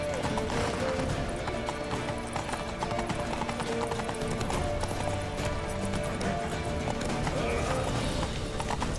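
Rapid, steady hoofbeats of a galloping horse in The Witcher 3: Wild Hunt pound continuously, with rumbling action sounds and faint voices mixed in throughout.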